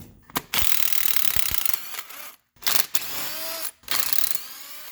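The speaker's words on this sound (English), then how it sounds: "With your coils out, you can go ahead and get those spark plugs out now." Ratchet wrench removing spark plugs from a 2006 Lexus IS350 engine, loud bursts of clicking and mechanical whirring in several runs separated by brief pauses.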